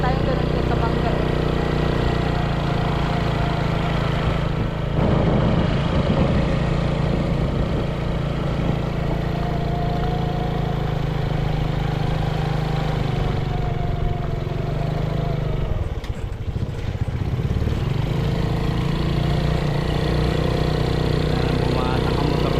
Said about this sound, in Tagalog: Bumatak ang motor na ito.